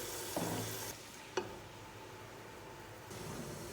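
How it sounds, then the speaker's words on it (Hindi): Tomatoes and garlic being stirred into a turnip and meat curry, a soft sizzling frying hiss with a brief utensil scrape, quieter toward the end. "टमाटर डाल दिए, और इसको मिक्स करना है"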